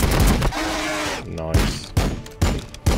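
Loud bursts of gunfire in the Warhammer 40k Battle Sector strategy game, several heavy booming shots spaced across the span with a rumbling tonal groan in between, close and full.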